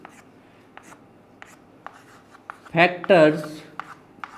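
Pen or marker strokes on a classroom board come in short, quiet scratchy bursts at an irregular rhythm, while a teacher speaks between and over them.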